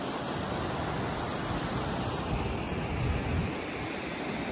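Small waterfall beside a hiking trail in St. John's, Newfoundland, a steady broadband rush of falling water that holds close and even throughout, with no voices over it.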